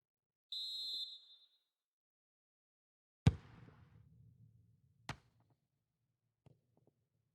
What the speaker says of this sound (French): Ouais, l'arbitre a sifflé hors-jeu